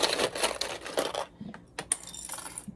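Small metal clips clatter and jingle as they are grabbed from a pile while a sling bag is sewn, a busy metallic rattle that thins into a few scattered clicks.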